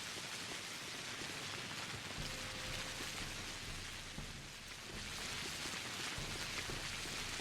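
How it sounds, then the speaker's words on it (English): Steady, dense rain ambience from the video game Pathologic, a continuous broadband hiss of falling rain that stays even and close throughout, with no voices. "The lovely, lovely sound of the rain."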